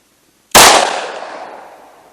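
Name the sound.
45 ACP gunshot from Colt Compact 1911 pistol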